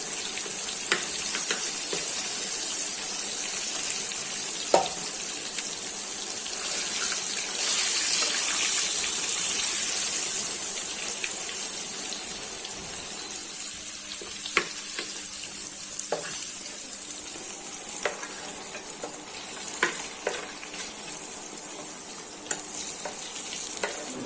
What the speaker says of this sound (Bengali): মাছগুলো ভাজা হয়ে গেছে, এখন উঠিয়ে নিচ্ছি।